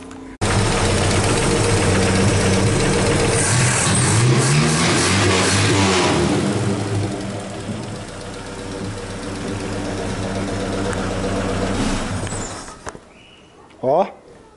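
A Chevrolet Opala engine running steadily close by, a loud low rumble that eases slightly midway, then cuts off, followed by near silence and a brief knock. Someone talks over the engine.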